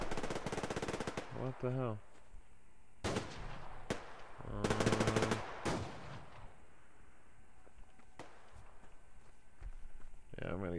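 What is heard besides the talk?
gunfire in the video game Survarium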